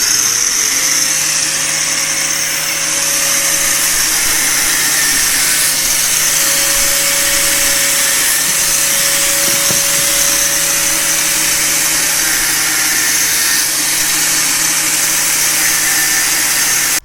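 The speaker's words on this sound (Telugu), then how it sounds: "కటింగ్ మిషన్తో కట్ చేసుకోవాలి" A cutting machine slices through a part for a helmet holder, giving a loud, continuous high whine with a steady tonal hum underneath that holds unbroken from start to finish.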